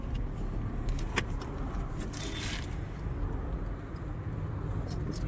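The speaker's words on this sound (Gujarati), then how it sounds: "હવે આપણે ગાડી સ્ટાર્ટ કરી પાછી." Steady low engine rumble from a car idling and pulling away on a road trip from Chotila, with brief clinks and a rustle over the constant hum.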